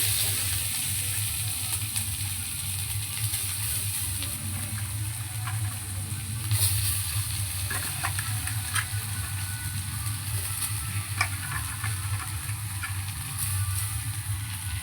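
Potato pieces, cashews and raisins fry in a little ghee in a kadai, making a quiet, steady sizzle over a low, constant hum, with no talking.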